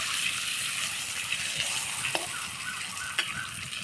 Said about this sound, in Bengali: পাঁপড়গুলো ভাজা হচ্ছে